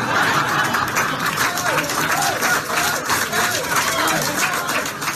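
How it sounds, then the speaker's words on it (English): Dense clapping from an audience fills the clip at a steady level, with some crowd noise and voices mixed in. "People are clapping for that."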